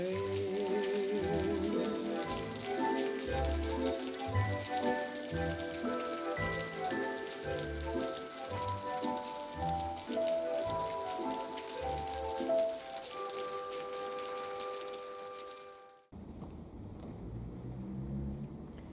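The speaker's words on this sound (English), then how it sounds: "We began today with something of a downpour" Steady wash of heavy downpour rain drumming on surfaces, mixed under a sustained organ-like tonal bed that cuts off near the end, leaving a quieter rainy hiss.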